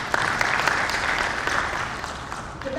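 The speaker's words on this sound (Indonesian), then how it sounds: "Iya, kita kasih aplaus buat kepolisian." Seminar audience in Bandar Lampung giving a round of applause for the police: steady, even clapping from a room full of people, moderately loud and continuous throughout.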